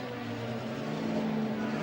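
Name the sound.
racing car engine misfiring in the pits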